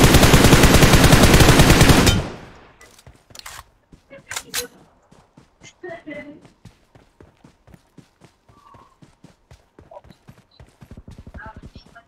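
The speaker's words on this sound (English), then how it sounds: "Shots on this side." Gunfire in the mobile battle-royale game PUBG Mobile: a loud noisy blast at the start, then rapid trains of sharp clicking shots and scattered single reports, with a player talking over parts of it.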